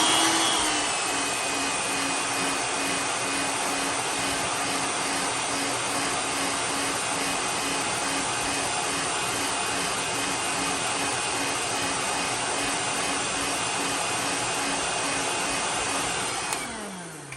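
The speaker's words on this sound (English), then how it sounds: "I'm gonna heat set that, a matter of fact." A heat gun heat-setting paint on a fishing lure blows a steady, loud, close rushing roar with a high whine. It runs without a break for most of the clip, then cuts off at the end.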